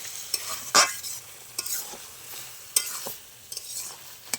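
Spatula scrapes and stirs ash gourd curry in a pan, sharp scraping strokes recurring every second or so over a soft steady sizzle, close and without talk.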